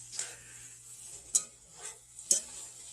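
Oatmeal being stirred into browned ground beef in a pan, a quiet scraping stir with a few sharp utensil clicks against the pan under a faint sizzle, no talking.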